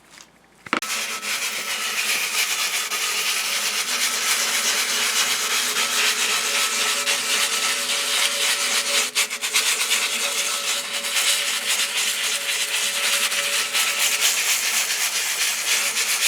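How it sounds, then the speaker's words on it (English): Abrasive rubbing down of a vehicle chassis leg during preparation of the frame for painting, a loud, continuous, harsh scraping that runs close and steady throughout after a brief quiet start. "So the rubbing down is progressing."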